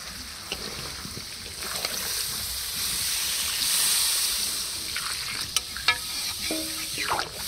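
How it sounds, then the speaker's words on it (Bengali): Water poured into a spiced red chicken curry in a pan, a steady bubbling, watery hiss that swells slightly, with a few small clinks near the end. "মাংস কষানো হয়ে গেছে, এবার জল দিয়ে ফুটিয়ে নেব।"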